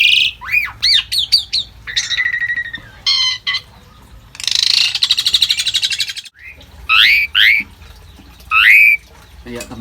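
Female jalak durian starling with a broken beak, squawking and chirping loudly and close in repeated harsh bursts and rising calls, with short gaps between them and no talking.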